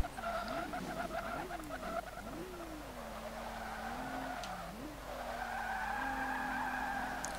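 Tires of a 2014 Rolls-Royce Wraith with more than 600 horsepower squeal and skid continuously in the racing game Forza 5, the pitch wavering and sliding over a steady engine drone, moderately loud with no speech.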